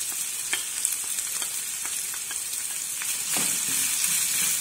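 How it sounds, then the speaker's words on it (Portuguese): Onion and bell pepper sauté in a pan for polenta mineira, giving a steady close hiss of frying with a few soft stirring taps, no voices. "Eu vou deixar dando uma refogadinha aqui para murchar a cebola."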